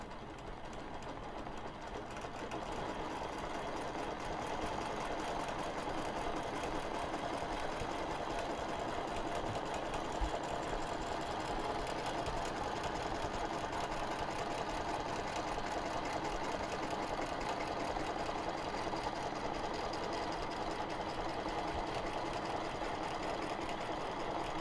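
A sewing machine stitches small quilting stitches in a continuous, even, fast mechanical whir that runs steadily throughout, close and with no talking.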